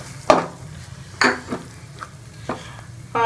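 Tomato paste, green chillies, dried coriander and spices sauté for a sweet corn masala, a low sizzle punctuated by four or five distinct spoon strokes scraping the pan.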